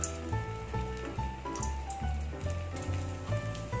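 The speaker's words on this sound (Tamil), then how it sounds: "இந்த பொரிஞ்சி வந்துருச்சு, எண்ணெய் நல்லா காஞ்சிருச்சு." Vada batter dropped into hot frying oil, sizzling and crackling steadily throughout, close and continuous with bubbling pops.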